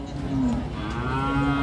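An Australian Friesian heifer calf of about eight to nine months moos at a busy cattle market, one long, loud, close call held for over a second above steady crowd murmur.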